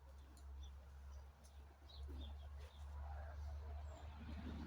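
Pigeons kept for sale coo softly in a loft, faint repeated low calls and light chirps over a steady low hum.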